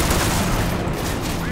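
Dense, continuous gunfire fills a Call of Duty: Modern Warfare 3 co-op firefight, loud and unbroken with overlapping shots throughout.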